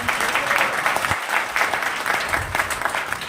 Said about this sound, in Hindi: एक बार हमारी नारी शक्ति के लिए तालियां हो जाए